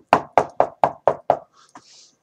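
Six sharp, evenly spaced knocks on wood, loud and close in a quick steady rhythm, followed by a brief quiet murmur.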